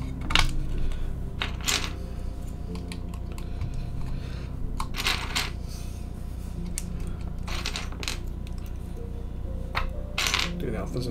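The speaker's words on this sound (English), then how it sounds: "Now we'll pop the keycaps on." Plastic keycaps being pressed onto a freshly assembled Noxary T60 mechanical keyboard, heard as scattered clacks and snaps in short bursts, close up over a steady low background hum.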